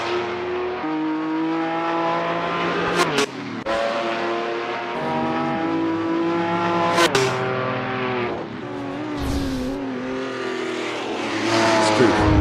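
Historic racing cars in an Assetto Corsa championship race at the Halle-Saale circuit, loud and close, with engines whining and rising in pitch through gear changes and a few sharp shifts.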